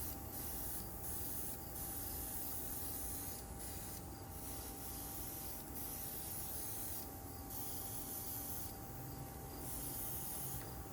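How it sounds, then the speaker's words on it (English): An aerosol spray can hisses steadily in long bursts separated by brief pauses while coating a transparent book dust jacket. The sound is soft and close, with no voices. "Now we're going to spray."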